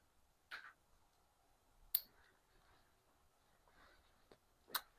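Pruning shears cutting bonsai branches during a November pruning and wiring session, three sharp, quiet snips spaced a second or so apart in a near-silent room.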